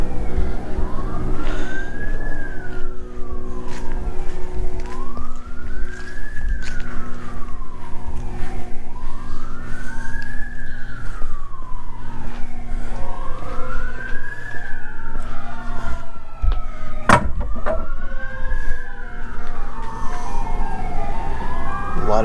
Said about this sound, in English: A lot of sirens and a lot of ice cream trucks.